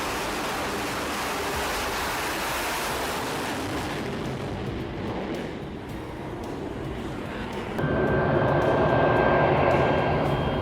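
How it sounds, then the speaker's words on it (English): An FA-18 Super Hornet launched by catapult at night from the deck of the USS Nimitz: a steady, loud roar of jet engine and wind that dips briefly, then surges louder with a thin whine near the end. "This system accelerates the FA-18 Super Hornet from 0 to 170 miles per hour in just 2 seconds"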